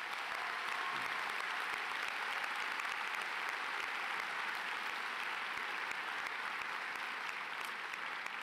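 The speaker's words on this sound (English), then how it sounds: "would you please give all the parents and guardians a round of applause?" A high school graduation audience applauds parents and guardians, steady sustained clapping from a large crowd filling the whole stretch at an even level.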